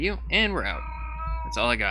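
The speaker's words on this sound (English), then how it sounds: "I have a cat yelling in the background." A cranky pet cat yowls in the background, a long, wavering cry heard between bits of a man's speech, fairly clear and sustained for most of a second.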